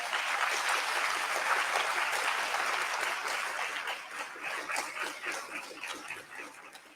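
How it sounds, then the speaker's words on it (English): An audience at an environmental justice symposium applauds a young activist, with sustained dense clapping that starts loud and fades gradually toward the end. "Let's give Destiny a round of applause."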